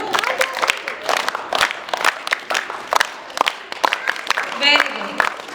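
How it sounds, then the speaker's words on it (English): Audience members at a school English poem recitation competition clap in a loosely rhythmic pattern of distinct, fairly sharp claps, with an adult voice talking over them and a brief burst of crowd noise near the end. "Start clapping rhythmically."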